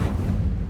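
In Hogwarts Legacy, casting the Incendio fire spell lets out a short, deep whooshing burst of flame, booming and fading quickly.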